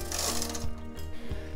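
A domestic knitting machine carriage is pushed across the needle bed, knitting rows of a cotton dishcloth, giving a close, loud mechanical rumble with two sharper clacks as the carriage reaches each end.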